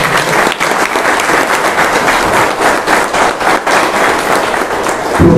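Loud, dense applause from an audience at a public talk on preserving old heritage buildings in Ahmednagar, a continuous roar of many hands clapping that holds steady for several seconds.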